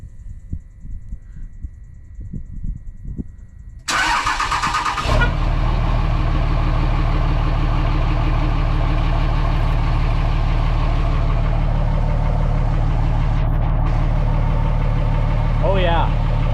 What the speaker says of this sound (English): The old girl has remote start now.